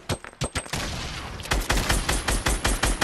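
Rapid gunfire in Fortnite Season 5, loud close cracks in a brief irregular burst, then a sustained roar and a steady run of evenly spaced automatic shots, with nothing else heard over it.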